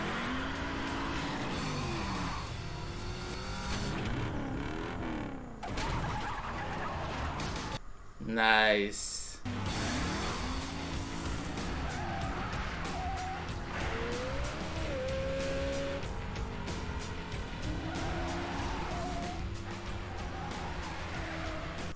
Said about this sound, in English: These taxi cabs going after this guy in the car.